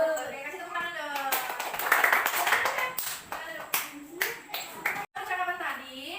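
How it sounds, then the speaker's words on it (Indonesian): Children clap in a classroom, bursts of close, sharp handclaps in uneven rhythm, mixed with a voice and children chattering over and between the claps. "Oke, kasih tepuk tangan dong."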